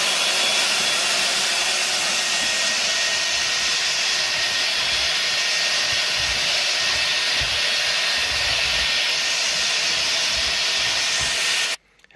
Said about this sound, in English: I'll go ahead and vacuum some of this sand,